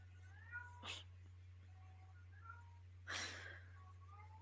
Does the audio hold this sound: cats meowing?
yes